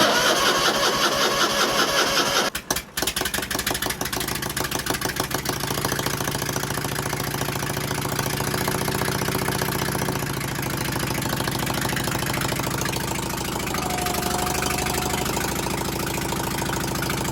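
Onan twin-cylinder engine, swapped in from the original four-cylinder, on a Gravely GMT 9000 tractor cranks briefly, catches and settles into a loud, steady idle with a rough, throbbing rhythm, close by and running without a working exhaust.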